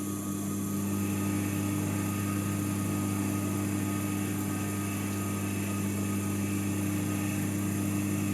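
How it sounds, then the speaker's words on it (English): A drill steadily boring into aluminium stock to make standoffs, with a constant whining motor drone and a strong low hum that holds at an even level throughout, with no talking. "And let's get back to the drilling."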